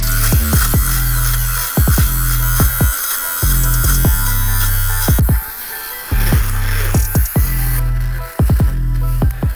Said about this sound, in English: We're gonna use my lint shaver to shave it down.